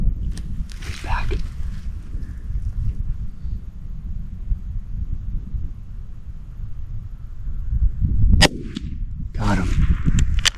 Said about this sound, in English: that last shot was 72 yards